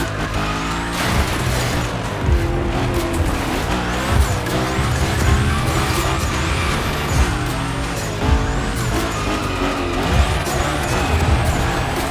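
A third-generation Hoonigan Camaro in The Crew Motorfest skids with loud, sustained tire squeal and a revving engine, pitch rising and falling in repeated slides, close and prominent throughout.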